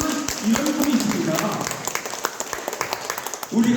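A church congregation applauds during a sermon, a burst of clapping that thins out to scattered claps and fades as the preacher's voice talks over it.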